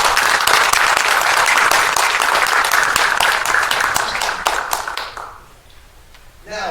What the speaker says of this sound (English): let's give that category of competition a big round of applause